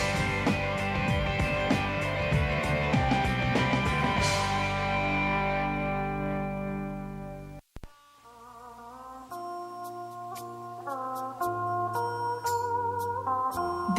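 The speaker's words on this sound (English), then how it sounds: "This is the sound of the đàn bầu, or Vietnamese monochord, a traditional Vietnamese musical instrument." A đàn bầu, the Vietnamese single-string monochord, plays a melody of gliding, bending notes, first over a dense accompanying texture and then more sparsely after a short break, heard clearly and alone.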